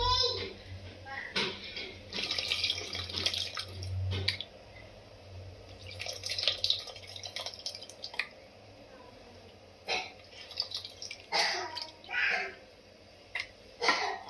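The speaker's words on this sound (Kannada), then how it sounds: "ಹುಣಸೆಹಣ್ಣು ಕಲಸಿದ ನೀರು ಹಾಕೋತಾ ಇದ್ದೀನಿ" Tamarind water being poured into boiling sambar made with radish and lentils, giving close splashing, dripping and bubbling liquid sounds in uneven bursts, with a voice talking over parts of it.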